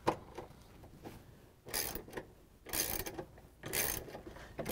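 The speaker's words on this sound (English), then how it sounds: "Now we're going to use the 3 8 socket again with the ratchet and the extension to take off the bolts" Ratchet wrench with a 3/8 socket and extension turning out the bolts on a GE washing machine transmission assembly, giving several bursts of rapid clicking separated by quieter pauses, close by.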